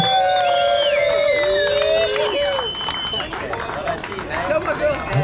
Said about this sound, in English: Huge round of applause for the Eden squad.